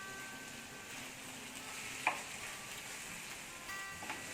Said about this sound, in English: So let us cook our tomatoes.